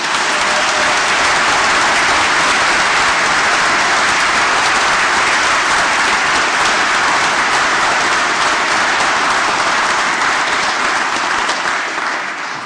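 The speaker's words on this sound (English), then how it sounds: "Let's have a thumping round of applause." Loud, sustained applause from a large audience at a 2019 law school graduation ceremony, dense and steady throughout with no break, easing only slightly near the end.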